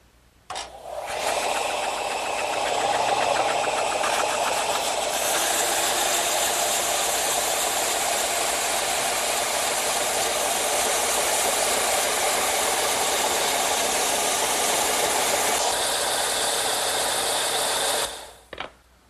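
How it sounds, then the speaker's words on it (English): A vertical belt sander tapers the edges of a wooden candle stand piece, starting up, then holding a steady loud whir with rattly grinding as the wood presses against the belt, and finally winding down. Nobody speaks. "to do that, I'm going to use my vertical belt sander"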